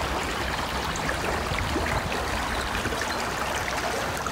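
A stream with rapids rushes steadily beneath a decaying, abandoned train bridge in the countryside. The flow is a constant, even wash of water with no voices.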